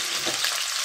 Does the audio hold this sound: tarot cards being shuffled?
no